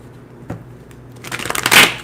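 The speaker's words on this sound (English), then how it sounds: "Let's pull a card for each sign so we know exactly what's going on." Tarot cards riffle and shuffle in a quick, close burst of papery flutter that swells to a dense peak, after a single soft tap, with no talking.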